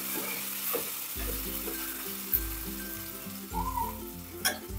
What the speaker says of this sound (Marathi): मला छान असं परतून घ्यायचं आहे।